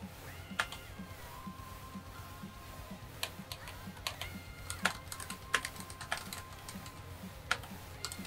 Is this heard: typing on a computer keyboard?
yes